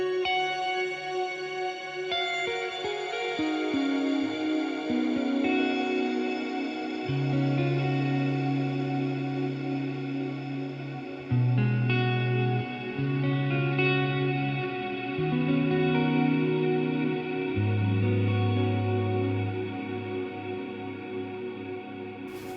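A Walrus Audio Mako R1 stereo reverb pedal colours an electric guitar as a run of picked notes and held chords blooms into a thick, shimmering reverb tail, steady and up front with no talking.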